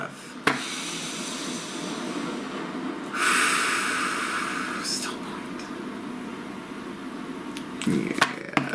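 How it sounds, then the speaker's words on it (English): A slow, deep breath drawn in near the microphone, a broad airy rush that swells around the third second and fades over several seconds, with softer breathy hiss continuing beneath. "Please take a nice deep breath."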